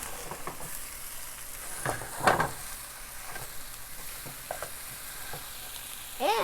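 Turkey burgers sizzle and crackle steadily in a hot pan just after being flipped, a close, continuous frying hiss with a few scrapes and clatters over it.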